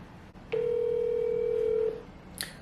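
A WhatsApp call ringing tone sounds from a phone: a single steady tone held for over a second, followed by a short bright electronic blip, over a faint background hum.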